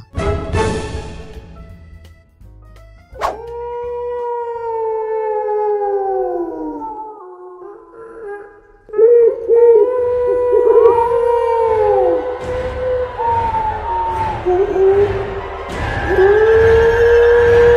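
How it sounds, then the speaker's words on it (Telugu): Jackals howling at night near the edge of a village, long wavering cries rising and falling in pitch, several overlapping voices that swell louder partway through and continue to the end. "నక్కల అరుపులు."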